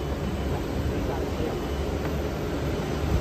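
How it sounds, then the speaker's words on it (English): A double-drum rotary carbonization furnace processing wet corn stalks for biochar runs with a dense, steady industrial roar and rumble, with faint speech mixed in. "Double drum carbonization furnace."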